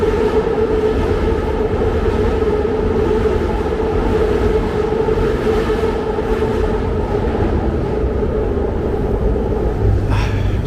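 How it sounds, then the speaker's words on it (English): A train rumbles past loudly and continuously on elevated tracks along Kensington Avenue, a dense heavy roar with a steady droning tone and faint clatter, filling the whole stretch. "So annoying, that train."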